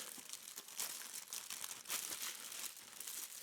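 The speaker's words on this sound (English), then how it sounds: "open the plastic bag up." Clear plastic bag packaging around a boxed automatic watch winder crinkles and rustles as it is opened, a faint, close run of irregular crackles and crunches with no talk.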